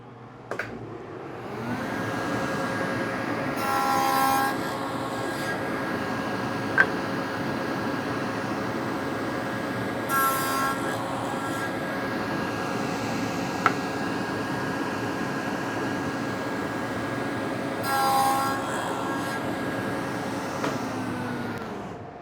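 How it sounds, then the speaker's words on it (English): A power saw cuts quarter-inch-deep dados on three sides of a wooden leg blank, with a loud steady whirring drone and brief louder surges as each pass is made, heard with no talking. "now I'm going to set the height to 1/4 of an inch and cut the 3 dados, the dado on 3 sides of the leg blank"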